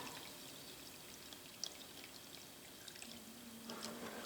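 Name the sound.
derusting solution poured over rusty rotary table parts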